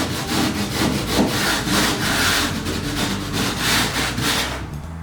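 A wood panel scraped hard against an edge to shave off rough excess, giving a loud, continuous rasping rub in steady back-and-forth strokes, close up with no talking, ending abruptly.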